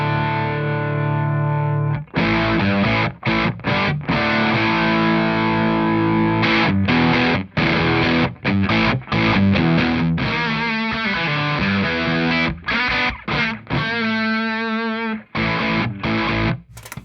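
An electric guitar is played through an Ibanez TS808 Tube Screamer overdrive pedal, giving loud distorted chords and riffs in rhythmic bursts with short gaps, sustained notes ringing out near the end.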